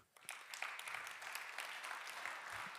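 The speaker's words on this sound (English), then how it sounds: "can we give a round of applause to the organizers?" Applause from a conference audience at a C# programming talk swells quickly and keeps a steady, dense clatter of many hands, moderately distant and fairly faint in a large hall.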